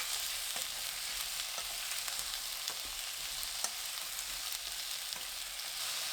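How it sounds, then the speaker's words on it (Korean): Potatoes stir-fry in two tablespoons of cooking oil in a pan over high heat, a bright steady sizzle with scattered crackles and occasional scraping of the stirring utensil, loud and close with no talk. "팬에 식용유 2큰술, 감자 넣고 센 불로 2분 볶아주세요."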